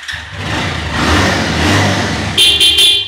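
A motorbike engine runs steadily up close, its loud low rumble holding for about two seconds before a sharper rev or horn-like tone cuts in near the end.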